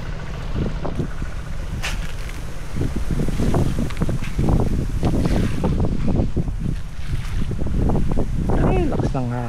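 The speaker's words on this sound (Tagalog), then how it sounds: "Ay, lakas ng hangin." Strong wind buffets the microphone in steady gusts, with a voice speaking over the rushing noise.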